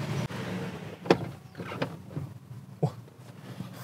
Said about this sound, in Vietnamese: Hệ thống cửa hít vẫn còn êm ru ạ.